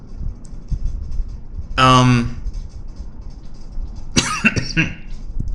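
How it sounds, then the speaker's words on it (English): Two bursts of coughing close to the microphone, one around the middle and a harsher pair near the end, over a quiet room background. "Apologies, I have a summer cough."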